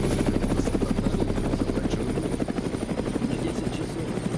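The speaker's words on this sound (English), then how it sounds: "Helicopter at 10 o'clock, stay low." Helicopter in the video game Chernobylite, a steady loud rotor chop pulsing throughout, close and dominant, with faint talk underneath.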